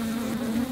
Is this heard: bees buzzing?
yes